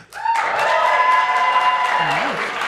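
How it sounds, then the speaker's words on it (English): A live show audience in Boise breaks into applause after a sudden start. Sustained voices or a held tone ring over the clapping, and a brief rising-falling whoop comes near the end. "By round of applause, do we think it's true she turned down a job with the FBI?"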